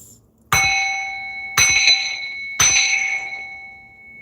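A metal bell struck three times at about one-second intervals in a space-cleansing ritual, each strike a bright ringing tone that lingers and decays, close and alone with no talk.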